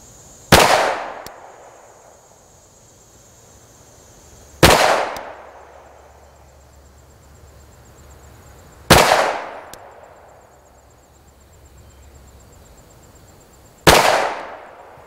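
Four loud, sharp 9mm pistol shots from a Springfield XD-M fired at a target 10 yards away, spaced about four seconds apart, each with a short ringing decay and no talk.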